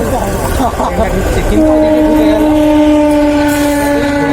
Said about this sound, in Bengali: দেখছো একটা ট্রেন ঢুকছে